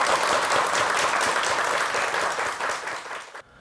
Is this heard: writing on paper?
no